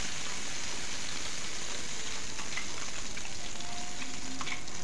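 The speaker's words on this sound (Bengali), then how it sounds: "এবার সমস্ত বরবটির পেস্ট এই তেলের মধ্যে আমি দিয়ে দিচ্ছি।" Yardlong bean paste frying in hot oil for a vegetarian mash, giving a steady, dense sizzle with a few faint scrapes throughout, fairly close and even in level, with no voices.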